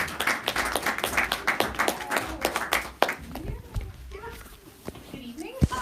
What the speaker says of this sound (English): So let's give her a round of applause and have her on out.